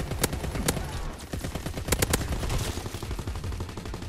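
LAD machine gun firing in Call of Duty WW2, rapid rhythmic bursts of sharp automatic shots close up, with a few louder cracks punctuating the steady stream.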